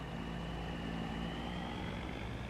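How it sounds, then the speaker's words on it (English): A steady, low propeller-like drone from an agricultural drone in Farming Simulator 25, a constant hum with a faint whine, heard alone at moderate distance without variation. "Using an agri drone now for your irrigation, rice and corn on our farm."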